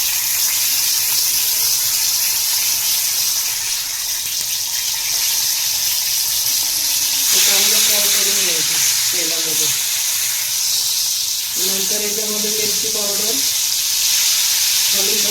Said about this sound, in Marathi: त्याच्यामध्ये आता मी तेल थोडंसं घालून घेते आणि एक तुकडा खारा मासाचा मी याच्यामध्ये घालून घेते आणि फ्राय करून घेते मासा